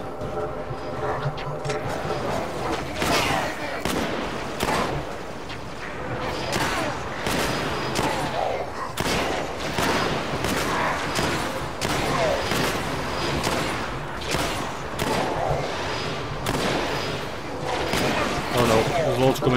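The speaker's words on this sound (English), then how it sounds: "I like this this shotgun" Repeated shotgun blasts in the video game Halo: Spartan Assault, booming in a dense, continuous barrage over heavy battle noise, with overlapping gunfire and explosions throughout and no clear pauses between shots.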